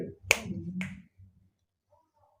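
Two crisp finger snaps in quick succession, close and clear, in a home kitchen setting, followed by near silence.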